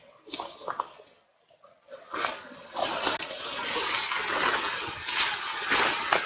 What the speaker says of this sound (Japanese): 川の音がしてきましたね。